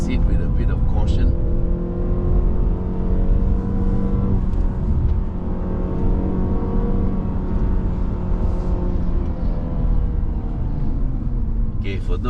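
A Mazda 6 20th Anniversary Edition climbs a wet hill road in drizzle, its engine held at steady high revs with a droning, sustained tone, and a voice talks over it throughout.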